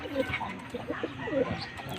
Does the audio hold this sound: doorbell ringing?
no